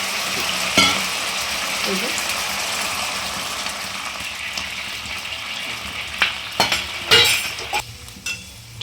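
A bowl of water added to sizzling chilli chicken in a pan, a steady hiss with a gushing splash and sharper sizzling bursts and utensil clinks toward the end.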